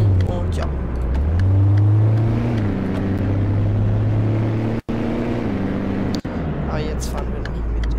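Mercedes CLS 500 engine in the driving game CityCarDriving 1.5.2, a low droning hum that rises and falls with the throttle, with a person talking over it throughout.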